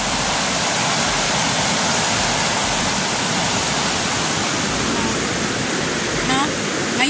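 Strong flood water rushes loudly and continuously down the Piñan river, a dense, steady roar that fills the whole clip with no break.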